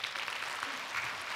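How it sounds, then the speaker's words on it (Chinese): An audience applauds at a Riway business training event in Kuala Lumpur, a dense, steady patter of many hands clapping together at moderate volume with no voices over it. "来，掌声，这是真的"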